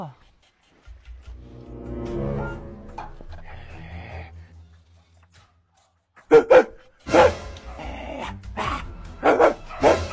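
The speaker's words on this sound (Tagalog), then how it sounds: "Ano ba naman tong asong to?" A dog barks in a house in a few sharp, close bursts near the end, after a stretch of quieter sound with voices talking.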